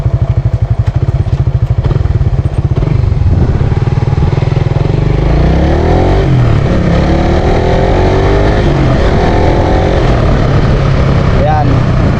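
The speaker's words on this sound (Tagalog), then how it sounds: "So hayaan nyo lang siya mag engine brake." A manual car engine runs with the clutch released for engine braking, a loud close drone with a rapid pulsing beat at first that smooths into a steady rumble, while someone talks over it.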